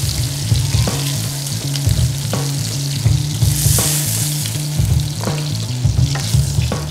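Beef short ribs searing in hot fat in a pan: a continuous close sizzle and spatter with a low rhythmic hum beneath, steady throughout with no talking.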